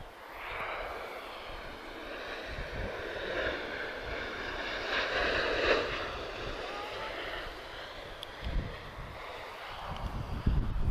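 A jet airliner landing in a crosswind at Lisbon Airport, a broad, steady engine roar heard from a distance that swells and holds, with faint wind and outdoor ambience.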